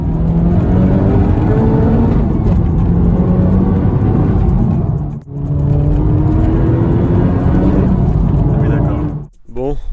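Honda Civic Type R engine note with a steady, loud drone that holds at one pitch, drops out briefly twice, then returns, with voices talking over it.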